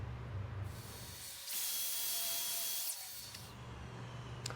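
A Festool track saw spins up and rips a long cut through a board, a near, bright whirring blade that rises into a sustained, even cutting roar for a couple of seconds before easing back to the motor's hum.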